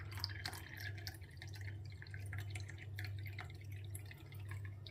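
Homemade rose water poured into a glass, a soft trickle with small drips and splashes, close and quiet with a low steady hum underneath.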